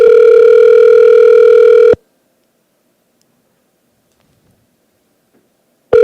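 An outgoing phone call rings back through the handset: a loud steady ringback tone for about two seconds, then four seconds of silence, and the next tone just starting at the end.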